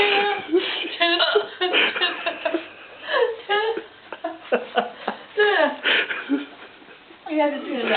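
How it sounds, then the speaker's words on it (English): A woman hiccups repeatedly after eating Lithuanian ice cream, with sharp hiccup bursts mixed with giggling and laughter among close voices. "This Lithuanian ice cream got you the hiccups"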